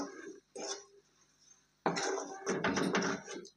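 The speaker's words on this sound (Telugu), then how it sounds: "షుగర్ వేసుకొని మొత్తం మిక్స్ చేసుకోండి." A utensil scrapes and clinks in a pan as sugar is stirred into carrot halwa, with a short scrape, a pause, then a longer run of busy stirring and clattering.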